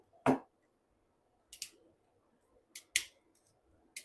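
Scissors snip stems for a velvet pumpkin candlestick decoration, with four or five short, crisp cuts spaced about a second apart in an otherwise quiet room.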